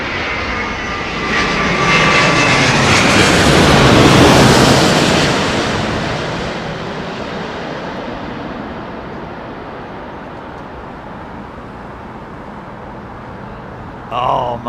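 An airliner landing in a crosswind at London Heathrow roars past as a loud, broad jet rumble that swells, peaks, then fades into a distant hiss, with wind buffeting the microphone throughout.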